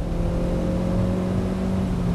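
Opel Corsa OPC engine pulling hard on the Nürburgring, a steady loud in-car drone with sustained harmonic tones as the car holds throttle through a corner.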